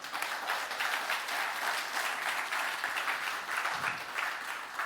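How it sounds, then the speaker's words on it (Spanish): A church congregation claps for the Lord during a Spanish-language sermon, a dense, steady wash of many hands applauding throughout, loud and close, with no talk over it. "¿Alguien puede darle palmas a nuestro Señor?"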